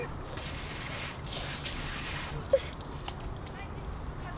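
A spray bottle misting onto hands, two soft hissing bursts close by, each lasting under a second, over faint room noise.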